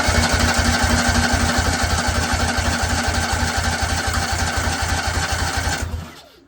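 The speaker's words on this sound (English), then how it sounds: "just gonna start it right up and see how it runs" An engine with an aftermarket carburetor and cheap head gaskets runs steadily after a cold start, a loud, rapid, even putter that holds for several seconds before cutting off abruptly.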